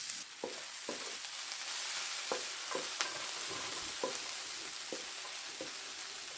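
Food fries gently in coconut oil in a pan with a steady soft sizzle, broken by sharp, sparse scrapes and clinks of a utensil stirring, all fairly quiet and without speech.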